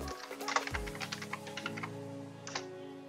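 Typing a command on a computer keyboard in a quiet room, a quick run of close, crisp key taps followed by a few scattered presses.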